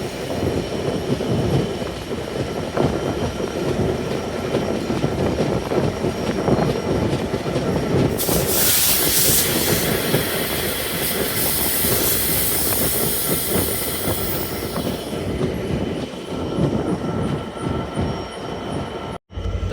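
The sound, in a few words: train at a railway station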